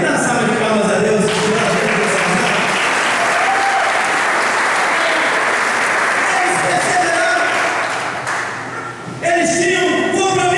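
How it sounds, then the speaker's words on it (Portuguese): A church congregation bursts into sustained applause in praise of God during a sermon, loud dense clapping from a large crowd lasting several seconds before fading, with a voice heard briefly at the start and end. "Vamos dar uma salva de palmas a Deus."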